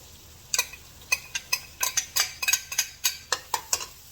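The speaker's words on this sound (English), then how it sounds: "And now we're going to add our shrimp." Small shrimp drop into a pan of sofrito pasta sauce, and a string of sharp clinks and scrapes from a utensil against the pan follows in an irregular rhythm, close and clear with no talking.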